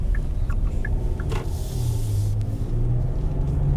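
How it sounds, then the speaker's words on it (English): A 2020 Hyundai Palisade Limited AWD cruising on a road in comfort mode, with a steady low cabin rumble of engine and tyre noise throughout, close and unbroken, with faint clicks from inside the car. "Now I'm going to take the Palisade on-road just to see how it handles, how quiet it is, what the pickup is like."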